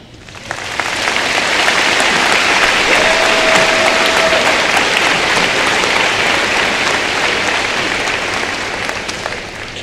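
A large audience at a 2012 high school graduation ceremony claps in a dense, sustained ovation that swells in quickly, holds loud and steady for several seconds, then gradually tapers.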